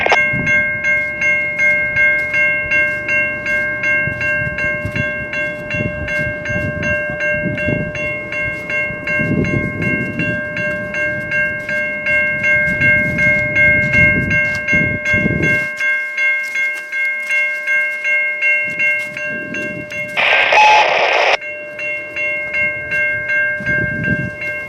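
A train passes a rail crossing on St. John's Sideroad in Pine Orchard while the crossing is malfunctioning. Steady ringing tones sound over a continuous low rumble, with a brief louder burst near the end.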